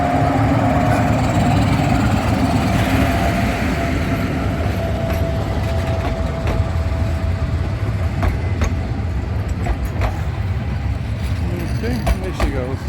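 A train rumbling past near Stāmeriena in Latvia, heard up close and loud with a steady low roar, wheel clatter and sharp clicks as the cars go by, while someone talks over it.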